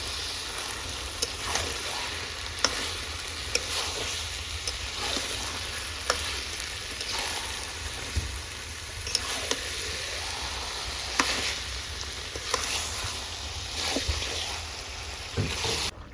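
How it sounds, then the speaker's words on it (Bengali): Chicken and hajam guti meat fry over a wood fire, giving a steady, close sizzle with occasional crackles and stirring clicks throughout, with no talking. "কাঠের জালে দেখো কেমন মাংসটা ফুটছে"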